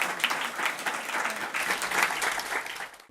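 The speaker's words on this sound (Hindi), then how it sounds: "इनके लिए तालियां" Sustained audience applause for a participant at a national essay competition, Bal Bharti, a dense steady clapping from a crowd that fades out at the end.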